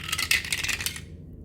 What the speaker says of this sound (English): now let's go ahead and roll again the 3-sided dice